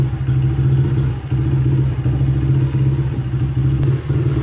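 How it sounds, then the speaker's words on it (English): A Honda CRF70F dirt bike engine idles steadily with a low, continuous rumble and faint mechanical clatter, holding an even pitch throughout. "so been idling for a few minutes"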